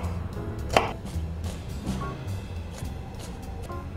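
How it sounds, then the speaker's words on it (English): A knife chops onion and garlic on a board, with one sharp, distinct cut among softer chopping strokes over a low background hum. "we got to chop a little bit of onion and garlic"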